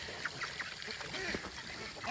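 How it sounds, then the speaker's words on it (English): Call ducks swimming in a backyard pool fed by a man-made stream give nasal honking quacks, several short calls close by over a constant wash of running water. "now the call ducks are in this one swimming."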